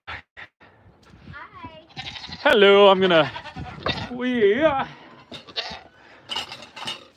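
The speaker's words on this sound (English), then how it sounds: "That's why the goats are making noise." Goats being milked on a far-north farm in spring bleat loudly and close by in a few wavering calls, mixed with a person talking and small clicks.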